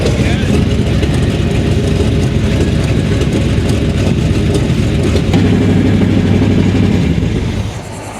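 A swapped-in motor in a broken-down truck, with a nasty exhaust leak, runs steadily and loudly with a constant low rumble throughout, easing off slightly at the very end.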